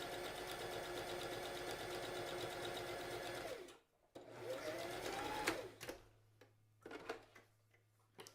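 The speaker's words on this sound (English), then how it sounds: "So what we're going to do now is make a top stitch on the outside of the peak." A sewing machine top-stitches along the outside of the peak of a child's newsboy hat, running as a steady close mechanical whir for nearly four seconds and then in short stop-start bursts with brief pauses.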